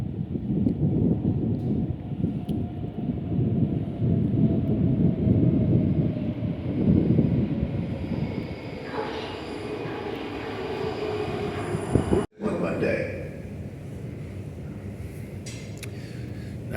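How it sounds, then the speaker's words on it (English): A metro train in the Czech Republic rumbles loudly into a station, its heavy low roar fading as it slows, followed by quieter platform ambience and a sharp break partway through. "Oh, here comes our metro again."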